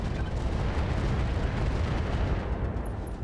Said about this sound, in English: We'll send 40 micro missiles to the butt.